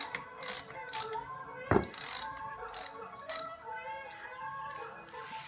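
Ratchet clicking as it loosens the oil drain nut on a Ducati Monster, a quick burst of sharp metallic pawl ticks standing out clearly against steady background noise.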